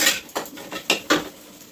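A metal wok set down on a home kitchen stove gives a few sharp clanks and clatters in quick succession, close and fairly loud, before oil is added for frying fish.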